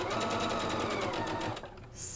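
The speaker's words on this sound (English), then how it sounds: "Put a pin in and we're gonna stitch right over." A sewing machine stitches a seam on a Sawtooth Star quilt block. A fast, even needle rhythm runs close and steady, then stops near the end, followed by a short high hiss.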